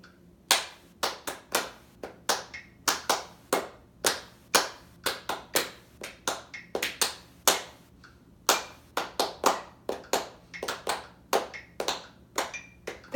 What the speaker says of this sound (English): I'll clap it with you